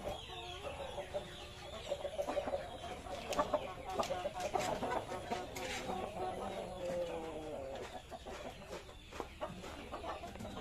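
Chickens suffering from a snoring respiratory ailment cluck and chatter in a coop, several birds calling irregularly at close range over a low background hum.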